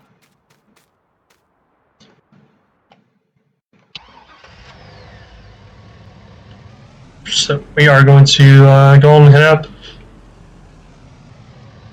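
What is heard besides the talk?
work truck engine in Farming Simulator 19 video game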